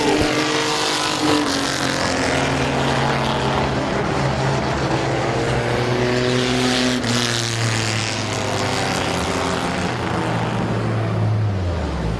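Race trucks roaring around the Midvale Speedway oval, loud continuous engines with rising and falling pitch as several trucks pass and shift, heard alone throughout.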